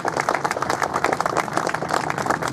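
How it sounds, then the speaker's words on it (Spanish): A burst of applause from a crowd, steady dense clapping for a couple of seconds; applause for a municipal council at a public event. "Pido unas fuertes palmas para nuestro Consejo de Regidores."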